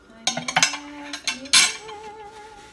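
A metal spoon clinks and scrapes against a baking dish while green chili enchilada sauce is spread across the bottom, a few sharp close taps followed by softer scraping.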